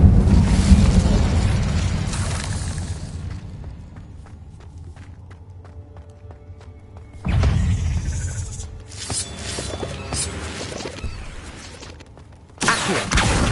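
An Incendio fire spell in Hogwarts Legacy bursts with a heavy whooshing blast, then settles into quieter crackle before another loud surge and a final burst near the end.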